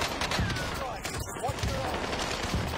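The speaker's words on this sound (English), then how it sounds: "Enemy precision airstrike" An enemy precision airstrike in a video game makes a dense, continuous rumble of rapid blasts and gunfire, loud and close throughout, with voices speaking over it.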